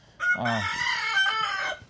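A rooster crows once, loud and close, a strained rising call that holds and wavers before trailing off.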